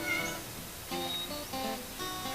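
A kitten meows repeatedly and clearly, a few drawn-out cries in quick succession, close and alone, with no talk.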